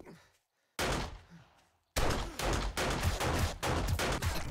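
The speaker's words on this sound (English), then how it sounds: "There's so much shooting," Gunfire in a 7 Days To Die PVP match: a burst of shots, a short silence, then a loud, rapid string of repeated automatic shots, close and sharp.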